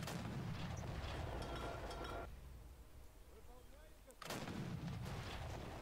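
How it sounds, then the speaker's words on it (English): Cannon artillery fire in the Battle of Empires: Russia video game, booming shots and sharp gunfire bursts framing a quieter gap, with someone talking over the battle. "they have actually brought their own cannon"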